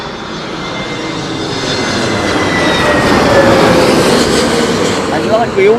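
A passenger aircraft crabbing into a landing in strong wind at London Heathrow Airport, its steady engine roar building and staying loud, mixed with heavy wind buffeting and a faint rising whine toward the end.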